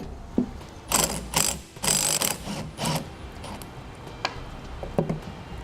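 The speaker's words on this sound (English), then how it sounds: "We'll use a 1/4 inch Allen key to hold the bolt still, and a 9/16 socket to remove the nut." A 9/16 socket on a ratchet wrench loosens a nut from a Roadmaster Falcon 2 towbar bolt while an Allen key holds the bolt: several close bursts of rapid clicking, then a few isolated ticks.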